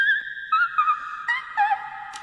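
A pitched-up vocal sample drenched in reverb, made in FL Studio 20, sings high wavering tones that glide and bend, clear and alone with no accompaniment.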